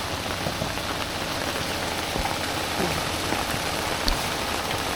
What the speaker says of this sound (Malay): Hujan di pagi hari.